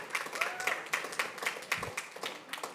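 A board meeting audience applauds steadily, the claps coming quickly and evenly at moderate volume and fairly close, with a faint voice in the background.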